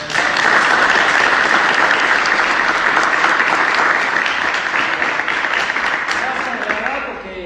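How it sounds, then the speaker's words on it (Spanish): Audience at a talk on training and nutrition for competition breaks into loud, sustained applause from many hands, close and dense, tapering off after several seconds. "Un aplauso."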